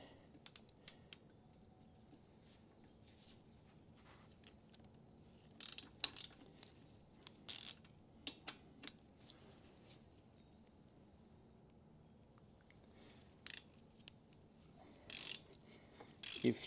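A short Allen key loosens screws under the lamp housing of a Harley-Davidson Road King Special, giving sparse, faint metallic clicks and ratcheting creaks close by, with quiet gaps in between.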